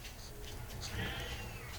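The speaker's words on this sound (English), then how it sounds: "Sorry about my cat." A house cat whining with a drawn-out meow that rises and wavers near the middle, fairly close, set against a low room hum with no talking.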